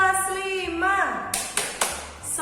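A primary school class, grade 5, claps a rhythmic classroom cheer: a voice chants first, then several sharp, loud claps land in a quick pattern.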